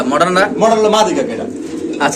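Pigeons at a pigeon market coo in soft throaty bursts close by, blending with someone talking over them.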